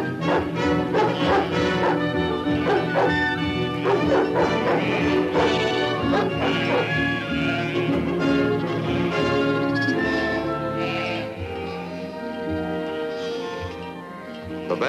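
A cartoon dog barks and yips repeatedly, loud and close, over busy orchestral music in a Disney Hercules cartoon, with barks clustering early and the music easing near the end.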